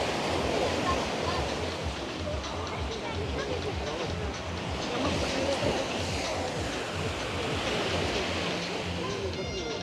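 Sea waves wash onto a beach at a seaside resort, a broad continuous rushing surf that swells and eases, with people talking over it nearby.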